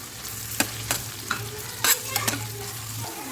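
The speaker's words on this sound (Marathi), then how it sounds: "तर हा कांदा पण याच्यामध्ये आपण मस्त फ्राय करून घेऊ" Onions frying in a pan for Dhaba-style egg curry, with a steady sizzle under sharp scrapes of a spoon stirring them, close and fairly loud, with no talking.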